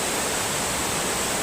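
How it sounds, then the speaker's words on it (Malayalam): Malora waterfall in Kerala pours with a steady, even roar of rushing water that holds constant from start to finish with no voices. "ഇതുണ്ടോ, അടിപൊളി വെള്ളച്ചാട്ടമാണ്."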